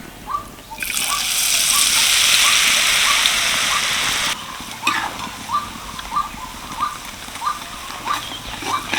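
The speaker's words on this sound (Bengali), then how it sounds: "বাকি ব্যাটারটাও আমি একইভাবে ভেজে নেব" Laddu batter deep-frying in hot oil gives a loud, steady hiss and sizzle close by, which then drops to a quieter bubbling with scattered small pops and splashes.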